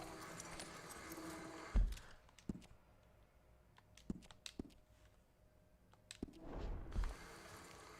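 Sparse hoof clops of a horse walking in the video game Red Dead Redemption 2, a few distinct thuds spaced irregularly, with rustling and a soft background hum between them.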